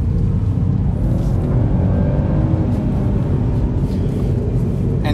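BMW MINI engine droning steadily as the car drives, a loud low-pitched hum with mild revving and road noise throughout, no talking.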